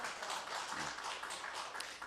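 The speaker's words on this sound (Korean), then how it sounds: "박수 칩시다." A church congregation claps together during a Sunday worship service, a faint, steady wash of many hands that sounds distant and diffuse.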